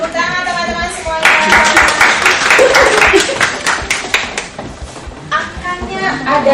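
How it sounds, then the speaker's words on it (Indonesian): Applause from attendees at a corporate customer-service training session in Indonesia, a burst of clapping that builds and carries on for several seconds, with a voice speaking over it at the start and again as it fades. "Tepuk tangan teman-teman semuanya."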